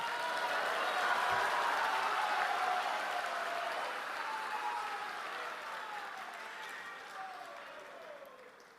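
Sustained applause from an audience at a 150th appearance day celebration honouring Srila Bhakti Siddhanta, a dense, even wash of many hands clapping that slowly fades toward the end, with voices faintly mixed in.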